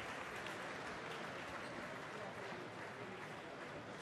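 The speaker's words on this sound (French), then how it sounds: "Merci de l'applaudir et de l'accueillir." An audience applauds to welcome Bernard-Henri Lévy at a public talk, with dense, even clapping that holds steady and fairly soft throughout.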